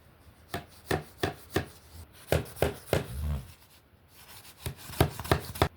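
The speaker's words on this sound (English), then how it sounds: "I will use hammer to push it in a bit" A hammer taps a wardrobe part into place in a steady series of sharp, close knocks, pausing briefly before another quick run of blows.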